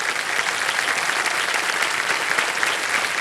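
Dense, loud studio audience applause on the set of a televised quiz show in Mumbai, continuous and even throughout with no talking over it.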